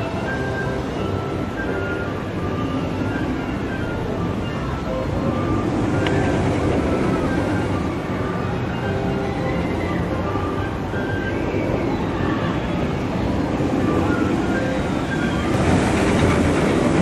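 A theme park train runs along its rails at Universal with a loud, steady rumble and rattle that carries through the whole stretch, heard from on board.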